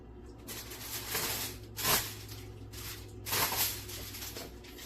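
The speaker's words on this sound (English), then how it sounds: "we're going to cover this with aluminum foil" Aluminum foil crinkled and pressed over a baking dish of cheesy beef enchiladas, giving close, soft rustling with two sharper crackling bursts, no talk.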